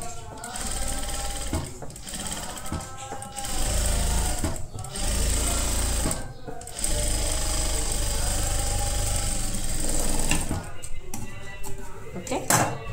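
A sewing machine stitches kurti fabric in rapid mechanical bursts, starting and stopping several times with brief pauses between runs, close and loud throughout.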